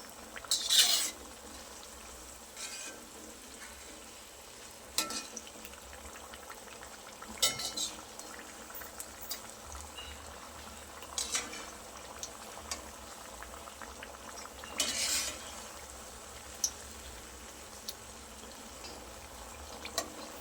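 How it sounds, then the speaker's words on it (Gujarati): Khambhat dabara potato bhajiya fry in hot oil with a steady soft bubbling hiss, broken every few seconds by brief metal scrapes and clinks as the pieces are turned until crispy. "આ રીતે એને ઉલટતા પલટતા એકદમ સરસ ઉપરથી ક્રિસ્પી થઈ જાય ત્યાર સુધી ફ્રાય કરીશું"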